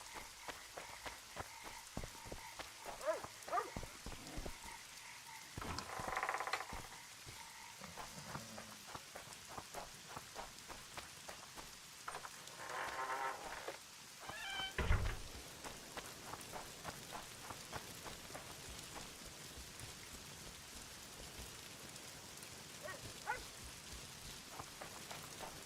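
Steady rain patters across a scene in the video game The Witcher 2, a continuous hiss of drops on surfaces with a few louder splashes and thuds breaking through now and then.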